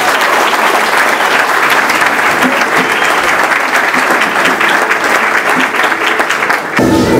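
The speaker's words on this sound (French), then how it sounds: "On acclame encore le Seigneur." A church congregation claps in loud, dense, sustained applause that fills the room for several seconds before cutting off near the end.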